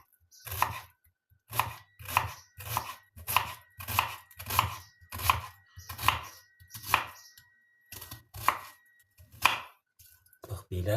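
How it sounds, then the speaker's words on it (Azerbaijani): A knife finely chopping onion on a board for a blini filling. About a dozen crisp, close thuds land at a steady pace, roughly one every 0.8 seconds, with no talking. "İndi başlayırıq ilk öncə soğanımızı doğramağa."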